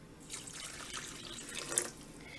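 Warm water poured into a bowl for making yeast rolls, a close, gentle stream of splashing and trickling liquid lasting a couple of seconds, heard on its own with no talking.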